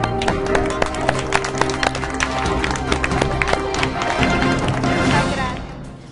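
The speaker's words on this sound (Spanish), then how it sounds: "Y un fuerte aplauso." An audience at an agricultural extension event in Arecibo breaks into steady applause, dense clapping from many hands that holds strong for several seconds before easing off at the end.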